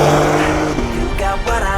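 Porsche 992 GT3 cars on a race track during a track day, loud engine notes with a sweeping pitch, passing close and revving hard in quick succession.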